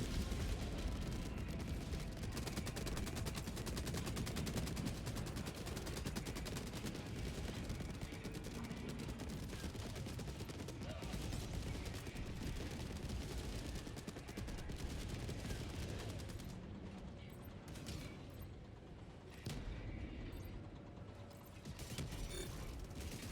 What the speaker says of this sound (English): That's the Gatling. Because the Seep Trooper walked into its line of fire.